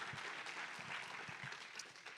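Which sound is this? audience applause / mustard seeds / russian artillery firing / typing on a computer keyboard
audience applause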